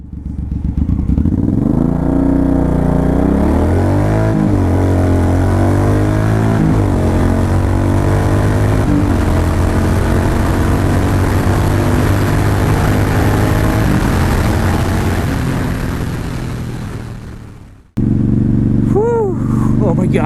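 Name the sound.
Suzuki Boulevard M109R motorcycle accelerating 0 to 60 mph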